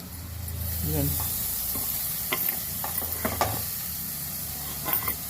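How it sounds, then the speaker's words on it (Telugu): Grated carrot fries in a pan for carrot rice, a soft even sizzle with a few spoon scrapes and light clinks, close and fairly quiet. "ఇది వేస్తాక కాసేపు వేగాలి"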